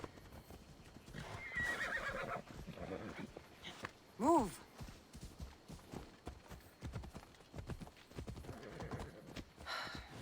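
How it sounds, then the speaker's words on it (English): A horse's hooves clip-clop steadily while a loud whinny rises briefly midway, in a video game set on a Greek island, with people talking over the game audio throughout. "Oh, now we get a horse."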